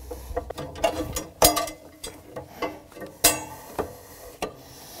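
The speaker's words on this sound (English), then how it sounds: "Put on the cover and replace the scraper." A planter's cover being put on and its scraper replaced produces a series of sharp metallic clinks, taps and ratcheting clicks, irregular and close up, with no voices.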